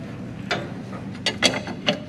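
Metal ratcheting clicks from two 21 mm wrenches loosening the camber alignment bolts on a ZL1 Camaro, a few sharp bursts spread irregularly over a couple of seconds, fairly close.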